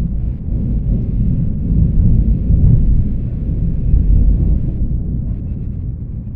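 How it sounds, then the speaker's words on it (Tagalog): Loud thunder rumbles through a heavy rainstorm, a deep, sustained roll that swells and lingers for several seconds close to the microphone. "Nakakatakot guys yung kulog"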